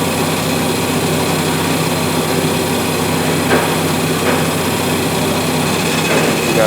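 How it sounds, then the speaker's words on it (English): Manual hone machine running as a tool is stroked on it, a continuous close, even mechanical whir with faint ticks and scraping, no talk. "Power it on. And I'm stroking it just like you're honing your parts,"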